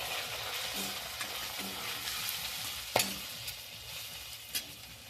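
Chilli powder, turmeric and other spices fry in a pan with small shrimp while being stirred, giving a continuous close sizzle broken by a few sharp scrapes of the spoon.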